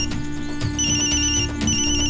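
A phone ringtone plays a repeating electronic melody, loud and close, cycling twice over the short span.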